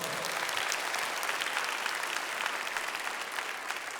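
An audience at a church prayer-meeting service applauds steadily throughout, a dense, even wash of many hands clapping at moderate distance with no gaps.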